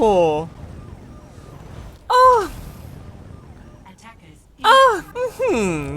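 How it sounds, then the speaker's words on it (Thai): Short wailing police siren bursts from the video game Overwatch rise and fall in pitch, loud and close, arriving in three separate bursts with quieter background between them. "เสียงไซเรนตำรวจนี้ ให้ความรู้สึกเหมือนกับว่าเราได้ขับรถตำรวจจริงเลยอะสุดยอดมาก"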